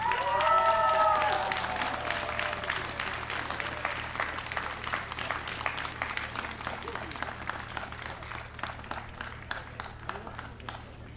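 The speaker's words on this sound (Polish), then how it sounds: "Dziękujemy, wielkie brawa dla wszystkich laureatów." Audience applause for the laureates of a music festival, a dense crowd clapping that starts loud and continues steadily for several seconds while a voice briefly speaks over the opening.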